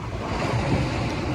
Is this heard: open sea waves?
yes